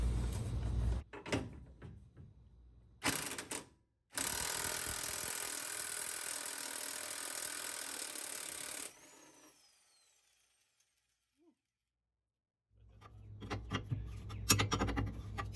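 An impact wrench works on the subframe bolts of a 1966 Mustang, giving a loud sustained burst of several seconds between shorter tool clatters, a quiet pause and more rattling near the end.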